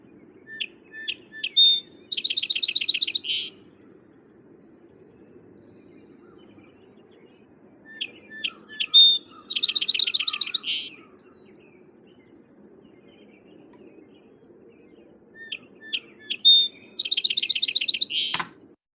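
A small, noisy songbird sings three separate bursts of song, each a quick run of high chirps and trills, with quiet gaps between them over a low, steady background hum.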